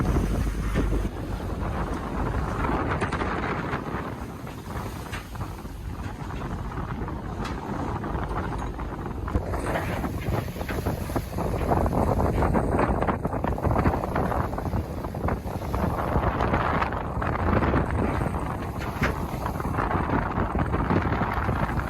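Strong wind buffets a ship pitching through 3.5-meter waves on the Java Sea en route to Pagatan, a steady roar of gusts and rushing water battering the microphone throughout, loud and continuous.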